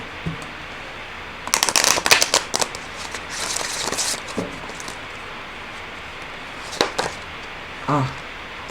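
Tarot cards are shuffled up close in quick, crisp riffling bursts, with papery flutters and a few single card snaps spaced across the quiet.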